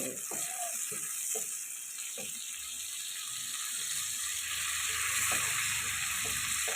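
Sautéed anchovy paste sizzles steadily in a pan, a constant close hiss with soft intermittent clicks and stirring scrapes throughout.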